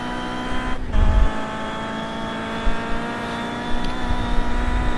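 Onboard engine of a BTCC race car in iRacing at Laguna Seca, a steady loud engine drone with harmonic tones and low thumps as the car crosses the line and heads into the next turn.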